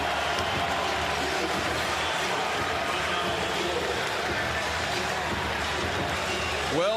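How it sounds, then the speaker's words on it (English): A crowd roars in a college basketball arena during an Alabama versus Vanderbilt game, a steady, dense wash of cheering heard at a distance with talk over it. "listen to this crowd"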